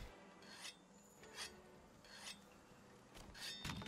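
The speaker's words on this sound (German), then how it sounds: "Okay, jetzt können wir schleifen." A weapon is sharpened in the video game Monster Hunter World, giving repeated rasping whetstone strokes in an uneven rhythm, each a short gritty scrape, fairly close and clear with no talk over them.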